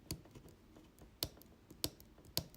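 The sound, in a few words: clicking of Michael Kors watch buttons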